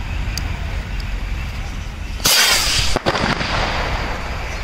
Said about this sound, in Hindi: तो भाई अब लगाते हैं रॉकेट बम के अंदर आग और देखते हैं ये चलता कैसा